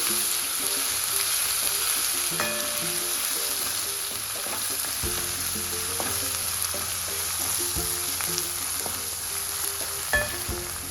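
Green chili and ginger-garlic paste sautéing in hot oil as tempering for kadhi pakoda, a loud, even sizzle close up with faint spoon taps and stirring throughout.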